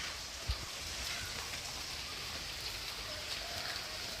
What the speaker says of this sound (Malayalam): ഇവിടെ മഴ ഇന്ന് തൂളുണ്ട് കാണിച്ചു തരാം